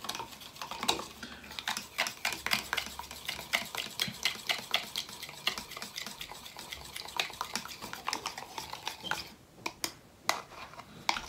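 Homemade beard oil with eucalyptus oil being stirred, a fast run of light clicking, tapping strokes against a small container, steady and close, with no talking.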